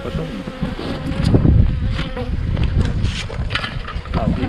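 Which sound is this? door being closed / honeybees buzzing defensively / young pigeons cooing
honeybees buzzing defensively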